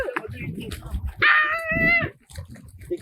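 A dog lets out a drawn-out, tonal yelping bark in the middle, with people talking nearby before and after it.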